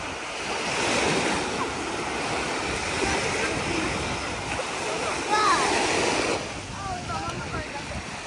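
Waves wash continuously onto a Costa Blanca beach, a broad steady surf roar with wind buffeting the microphone, while people talk faintly in the background.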